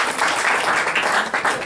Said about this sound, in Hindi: हम एक बार फिर तालियों से उनका अभिनंदन करें